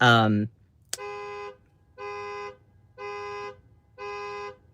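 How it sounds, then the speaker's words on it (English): A car alarm goes off in a parking lot: after a short honk-like tone and a sharp click, a loud electronic tone sounds in four evenly spaced half-second bursts, close by. "someone just set off their car alarm"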